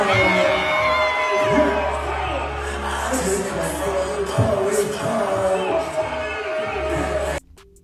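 A concert crowd whoops and yells wildly at a live performance, loud and continuous over a deep, thumping bass beat, before cutting off abruptly near the end.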